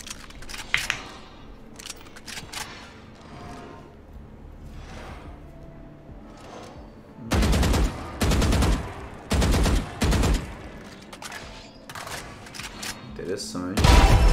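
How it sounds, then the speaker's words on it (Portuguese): A Valorant weapon skin finisher plays a burst of sharp impacts and rapid gunfire-like bangs in clustered volleys over video game effects, with people talking and reacting throughout. "Vamos ver a finalização dessa arma."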